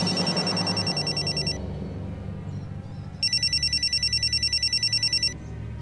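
A shrill electronic telephone ring sounds in two rapid trilling bursts separated by a gap, loud and close over a low background murmur.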